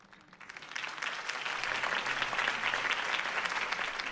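Crowd applause at a political campaign rally in Batman: The Telltale Series swells in after a brief quiet start and holds as steady, dense clapping from a large group.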